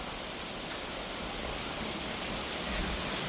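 Steady rain hisses evenly during an 8 km run, with broadband noise and no distinct drops or voices.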